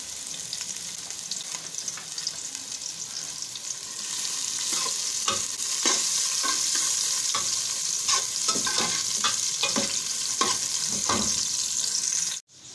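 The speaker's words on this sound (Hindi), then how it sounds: "और ये 7 कड़ी पत्ते डाल दूँगी, और इसको हम लोग ब्राउन होने देंगे।" Seven curry leaves and onion fry in hot oil in a pan, giving a constant close sizzle broken by repeated scraping stirs, with no talking, until the sound cuts off abruptly.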